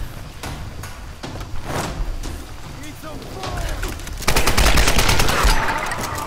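Bursts of gunfire from a new weapon in Tomb Raider Definitive Edition, loud and dense, turning into rapid sustained fire near the end over a busy game soundscape.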